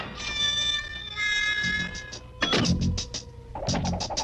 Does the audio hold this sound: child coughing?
no